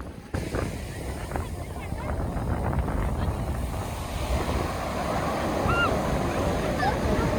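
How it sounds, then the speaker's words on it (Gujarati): Sea waves roll and wash onto a beach at Diu in a steady roar, with strong wind buffeting the microphone throughout. "કેવા મોજા આવે"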